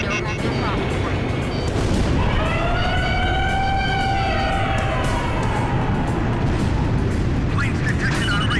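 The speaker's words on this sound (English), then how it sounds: "Sound the armory sirens" Wailing armory sirens rise and fall in layered tones over a loud, dense rumble of wartime ambience in the Ace Combat 5 flight game, sounding continuously at strong volume.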